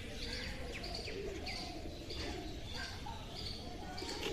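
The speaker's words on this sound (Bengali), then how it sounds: "কত পায়রা এখানে।" Pigeons coo softly and repeatedly amid light chirps and a low background hum at a Ganges riverside temple ghat, a gentle, continuous bird chorus at moderate distance.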